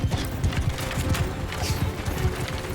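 Cavalry horses gallop in a Mount & Blade II: Bannerlord battle, a dense rapid drumming of many hooves with overlapping clip-clop beats, loud and steady throughout, with faint battle noise behind.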